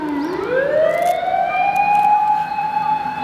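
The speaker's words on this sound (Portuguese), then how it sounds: "vou pedir pro editor botar aquele alerta de sirene aí, ó, alerta de spoiler" A siren sound effect rising from a low wail into a steady, loud tone with clear harmonics, sounding alone for about three seconds as a mock spoiler alert.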